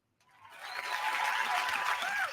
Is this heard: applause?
yes